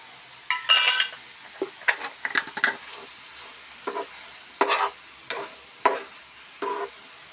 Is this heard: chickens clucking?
no